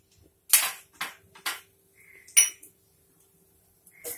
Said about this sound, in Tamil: கடுகு வெடிக்கட்டும், கடுகும் ஜீரகமும் வெடிக்கட்டும்